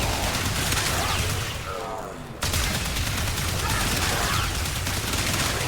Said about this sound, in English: It's an even faster automatic shotgun like the Bratton.